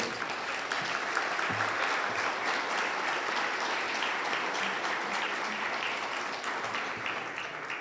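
Audience applause at an anniversary ceremony in Pachuca, honouring a colleague: a broad, even wash of many hands clapping that holds steady for the whole stretch, fairly distant and without talk.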